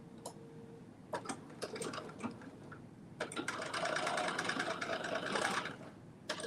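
A sewing machine fitted with an edge foot stitches a Simplicity dress bodice in short, close mechanical runs with ticking clicks, then hums through a longer steady burst before stopping, with no talking.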